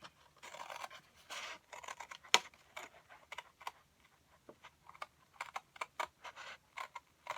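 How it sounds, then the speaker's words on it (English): Scissors cutting out an embossed paper card bunny, leaving a thin pink border around black embossed lines; close, quiet irregular snips and paper scratches in short bursts with brief pauses, no talking. "So now we're going to cut him out."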